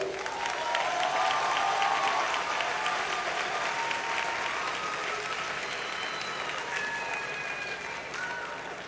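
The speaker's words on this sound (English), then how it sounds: "Let's give all of them a round of applause" Audience applauding graduates at a university graduation ceremony in Jamaica, a steady, full wash of clapping from a large crowd that holds strong throughout, with a faint murmur of voices mixed in.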